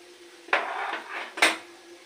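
A utensil stirs sauce in a cooking pot. Two sharp metallic clanks and scrapes against the pot sound close by, separated by a brief softer scraping, over a quiet background.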